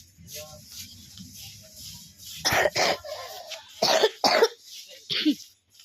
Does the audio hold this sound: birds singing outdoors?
no